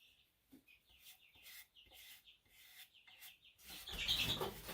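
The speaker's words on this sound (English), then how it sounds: "Chickens are a little upset I'm still here." Chickens cluck in short, repeated bursts nearby, growing louder and more agitated toward the end.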